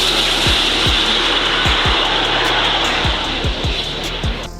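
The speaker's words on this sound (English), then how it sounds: "It quite literally is a jet on wheels, to the point where even when it passes by, it sounds like a fighter jet." Jet-powered car resembling a batmobile roaring past with a steady, loud turbine-like whoosh like a fighter jet, broad hissing noise sustained throughout with repeated low thumps underneath.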